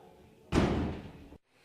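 A door at a brewery swings shut with one loud, close slam that rings for nearly a second before cutting to silence.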